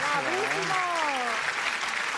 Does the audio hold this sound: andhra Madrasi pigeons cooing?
no